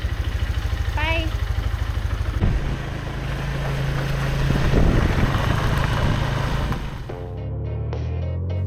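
A motorbike engine thrums steadily during a ride in Cambodia, close and loud with wind rushing past, its pitch rising and shifting as the bike accelerates, then dropping toward the end; voices are heard briefly.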